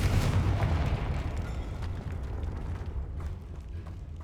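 A Confringo blasting spell goes off in Hogwarts Legacy, a loud booming burst at the start that decays into a long rumbling, crackling tail.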